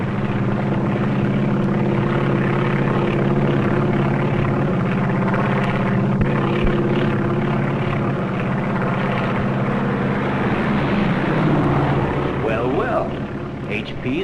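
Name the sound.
crop-dusting airplane flying low over peach trees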